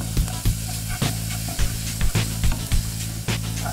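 Onion with cumin, garlic and ginger sizzles loudly in a pan for Rajasthani gatte ki sabzi, a constant frying hiss broken by regular stirring scrapes and clatters.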